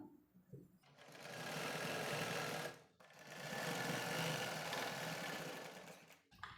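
A sewing machine stitches a blouse in two long continuous runs, a steady close mechanical whir with a brief pause between bursts and a faint voice at the start.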